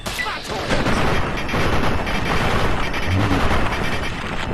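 Dense gunfire rattles during VATS combat in the video game Fallout 3, loud and sustained with overlapping shots and booms for several seconds, no talk.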